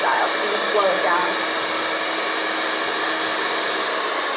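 A hair dryer fitted with a concentrator nozzle blows steadily and loudly while a barber styles a man's hair downward, a constant rushing whoosh with no break.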